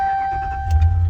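A 2018 RAM 1500 Laramie pickup cranks over, a short low rumble rising near the end beneath a steady electronic whine from the cab, brief and close with no talk.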